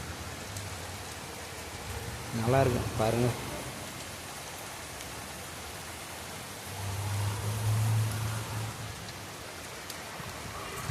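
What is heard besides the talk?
rain falling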